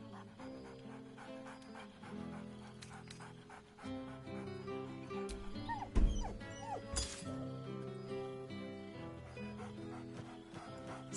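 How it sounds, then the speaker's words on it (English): Scratch, a dog in a video game, pants and yips excitedly close by over soft background music, with a few clinking sounds and a short burst of louder barking in the middle. "Scratch barks merrily in something like agreement"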